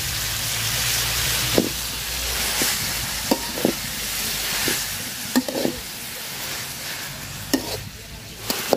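Helencha greens sizzle in a pan with fried spices, salt and turmeric while a spatula stirs and knocks against the metal in irregular taps, close and steady throughout.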